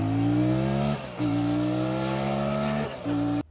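A Brazilian motorcycle, an MC09, roars with a sustained loud engine rev while held up on a wheelie, its steady high drone dipping briefly twice as the throttle eases off before climbing again.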